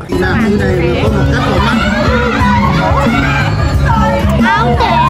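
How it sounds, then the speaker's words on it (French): Loud, continuous family hubbub at a Lunar New Year (Tết) gathering in Vietnam, with children screaming and shrieking over adults talking very loudly and a blaring TV and music, all dense and close with no letup. "les enfants qui hurlent, mes parents qui parlent hyper fort, la télé à fond, la musique tout le temps à fond"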